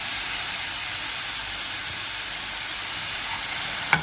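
Capsicum and carrot fry in a pan for chicken rolls, a steady loud broad sizzling hiss running evenly throughout, close by, with a small clink near the end.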